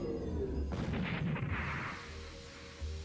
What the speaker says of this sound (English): the little doughboy exploded